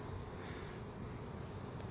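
Honeybees buzz during a hive inspection, a steady faint droning hum of many insects close by, continuous with no talking over it.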